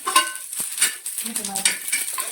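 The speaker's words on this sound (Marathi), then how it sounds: "तर तो मसाला इथे एकदम तव्यावर काळा कुट्ट होईपर्यंत भाजून घ्यायचा" A masala of sesame and poppy seeds is dry-roasted on a griddle, close by, with repeated scraping stir strokes and a light crackle running through the whole stretch, and no talking.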